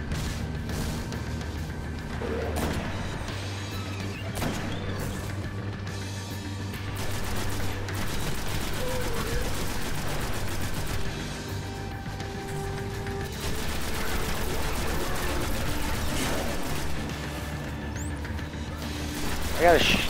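Rapid gunfire and explosive bursts from a Destiny boss fight on Venus, sustained and dense over continuous game sounds, with a player talking throughout.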